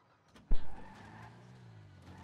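A stolen car in a video game starts off with a brief thump and engine surge, then settles into a low, steady motor hum as it drives away, moderately faint.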